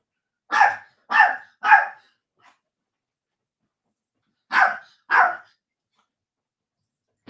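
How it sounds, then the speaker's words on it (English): A dog barks close by, three sharp barks in quick succession, a pause, then two more, with silence between. "Stop being a dog."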